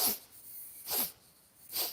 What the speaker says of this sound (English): now 10 sniffs up